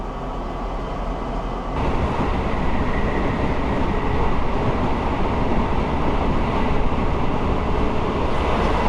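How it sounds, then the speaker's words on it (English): Steady, loud rumble of a moving train heard from inside the carriage, with continuous rattling and a rise in intensity after the first couple of seconds. "It's a bit of a noisy train, this one."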